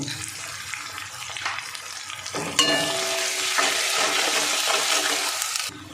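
A spice paste with a little sugar and salt fries in a pan, starting with a quieter crackle and then rising to a loud, steady sizzle with stirring scrapes, close and without speech.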